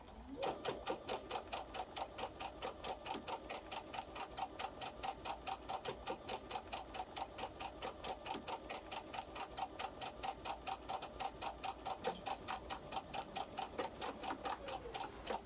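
A sewing machine stitches slowly along a marked line on colorblock fabric, giving a steady, evenly spaced ticking pulse of needle strokes that continues close and unbroken throughout.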